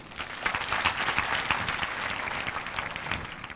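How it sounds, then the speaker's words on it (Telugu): A church congregation breaks into a burst of applause, many hands clapping together in a dense, moderately loud wash that holds steady for a few seconds. "మంచిది అన్నవారు చప్పట్లు కొట్టండి"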